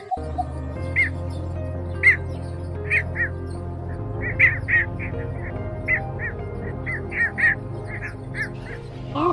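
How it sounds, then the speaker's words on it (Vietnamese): Recorded heron and egret calls played as a trapping lure, a series of harsh, squawking croaks repeating irregularly over a low steady hum, fairly close and alone without talk. "tiếng chim chuẩn đầy đủ và cập nhật mới nhất để đi bẫy"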